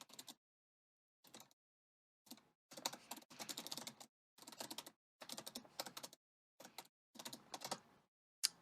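Bursts of quick keyboard typing, close and fairly quiet, separated by short silences, the clicks coming in irregular flurries.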